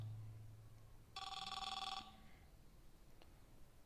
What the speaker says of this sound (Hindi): बीच में फोन आ गया